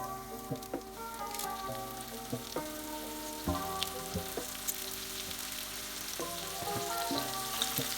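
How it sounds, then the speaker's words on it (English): Chicken wings crackle and spit steadily in a hot pan, with clinks and scrapes as pieces settle in the sizzling oil. "just make sure that they're evenly spread in the frying pan"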